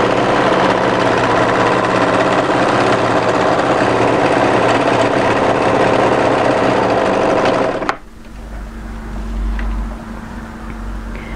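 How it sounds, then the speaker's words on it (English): An overlocker running fast along a raglan hoodie seam, a loud steady mechanical whirr that stops abruptly near the end and leaves quiet room noise. "continue overlocking all the way to the end"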